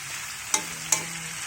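Pork sautéing with string beans and squash in a pan gives a steady broadband sizzle. Two sharp clinks of a utensil stirring against the pan cut through it, one at about the midpoint and one shortly after. No one talks.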